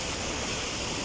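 Floodwater rushing across a road after heavy rain in Saudi Arabia, a dense continuous wash of flowing water, loud and close with no break.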